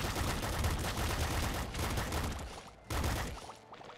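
Pop rifle gunfire in the video game Nuclear Throne comes as a loud, dense stream of rapid shots. The stream breaks off briefly near the end, resumes, then tapers away.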